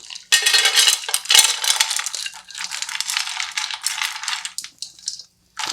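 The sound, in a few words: nuts added to a warming pan for granola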